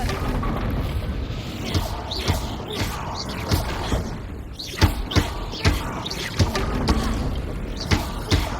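Booming blasts from the Confringo explosion spell in the video game Hogwarts Legacy thud out at irregular intervals over a dense, rumbling ambient bed, loud and close.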